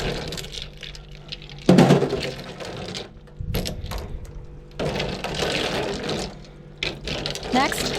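Loach fish are rinsed in water at home, giving splashing and sloshing with scattered clinks and knocks, loud and close, coming in bursts throughout.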